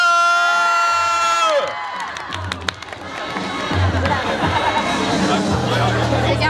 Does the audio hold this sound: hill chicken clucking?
no